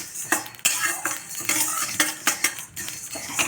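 Coriander seeds dry-roast in a pan while a metal spoon stirs them, making repeated sharp scraping and clinking strokes in an irregular rhythm over a faint sizzle, close and fairly loud.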